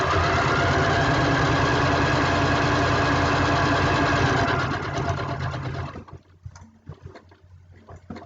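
A sewing machine stitches a spools-of-thread pincushion in a fast, steady mechanical whir for about five seconds, then slows and stops, leaving light clicks and handling sounds.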